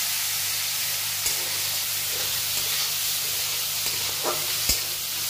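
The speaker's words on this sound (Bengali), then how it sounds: "ছোটো ছোটোই চিংড়ি দিলে তেলটাকে আমি সামান্য ভেজে নেব" Small prawns fry in hot oil with a loud, even sizzling hiss that holds steady throughout, broken by a couple of brief knocks near the end and a low background hum.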